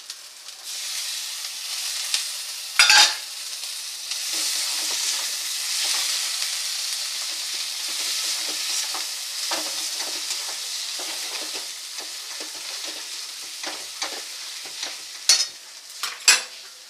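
Chopped tomato sizzles and fries in a pan of chicken curry made with moong dal. A steady close hiss is broken now and then by stirring scrapes and clatters.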